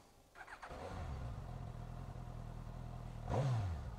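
A Suzuki GSX-S 1000 motorcycle engine cranks and catches, settling into a steady idle, then gives a brief louder rev near the end.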